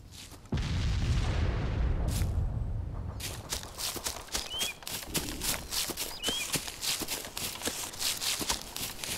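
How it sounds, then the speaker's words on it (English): Gunfire erupts in a combat zone: a heavy boom and rumble at first, then a long stretch of rapid, sharp cracking shots in irregular bursts, loud and close. "They're shooting at us!"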